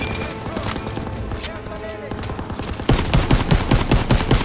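Call of Duty: WWII machine gun fire rattles in bursts, with rapid repeated cracks growing louder and denser midway, mixed with shouted voices and battlefield noise.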